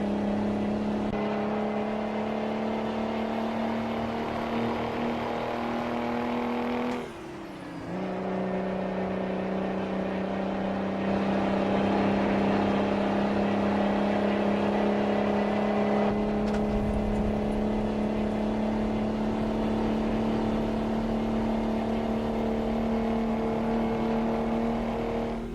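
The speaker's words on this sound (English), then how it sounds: "When it gets to about 1700 RPMs, you really hear the exhaust note kick in" Truck engine inside the cab dips briefly as it shifts, then pulls back up to about 1700 RPM, where the exhaust note swells into a fuller, louder drone that holds for more than fifteen seconds with no talking.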